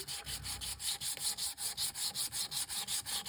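Dry, rhythmic sanding strokes on a printed photo, steady back-and-forth scraping repeated about four times a second, close up with no talking.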